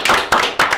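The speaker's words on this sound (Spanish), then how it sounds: "¡Aplausos, Michael!" Audience clapping for a guest on a talk show, three loud, close rhythmic claps or bursts in under a second, with no talk over them.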